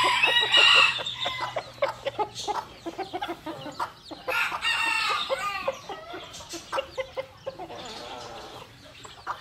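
A rooster crows and hens cluck busily close by, with a steady stream of farmyard calls filling the whole stretch. The birds are Nagasaki chickens.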